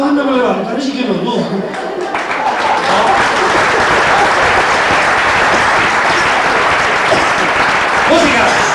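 At a dinner event in Santa Margalida, Mallorca, a voice speaks briefly before a crowd breaks into loud, sustained applause that keeps building as many hands clap close by.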